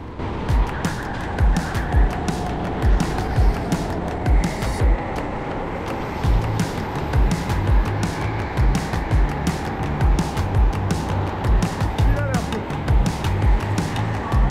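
Racing go-karts at the Speedpark Strasbourg indoor track during a four-hour endurance race, engines droning steadily and buzzing past over continuous rumbling, with voices talking over the noise throughout.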